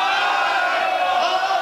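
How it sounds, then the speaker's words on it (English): A crowd cheers and whoops loudly at a leather contest, a sustained roar of many voices held steady throughout. "One big cheer. Come on!"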